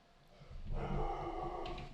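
Dogs bark and growl in an indoor room, a short muffled burst that is moderately faint and heard alone without speech.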